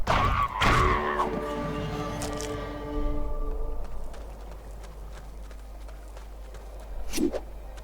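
Horse hooves clip-clop in a video game, a quick burst of hoofbeats near the start followed by ringing tones and softer scattered thuds, then a final clattering hit.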